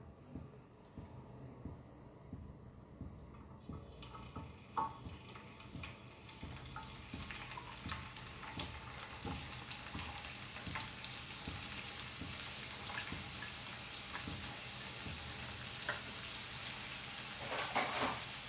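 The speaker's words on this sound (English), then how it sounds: "And now in this we will add our onions" Onions hitting hot coconut oil in a pan for a grandmother-style cabbage and dry prawn kismur, a sudden crackle swelling into a steady, loud, dense sizzle that carries on to the end with no talking.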